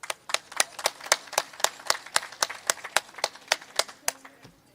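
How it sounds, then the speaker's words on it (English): Applause at a City of Long Beach small-business award ceremony comes as sharp, evenly spaced claps in a steady rhythm, fairly close and crisp, with little else around them. "All right, round of applause for El Paisa"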